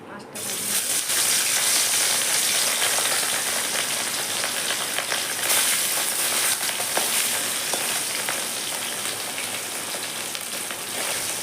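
Hot oil sizzles and crackles steadily in a pan, a dense hissing spatter that continues evenly throughout.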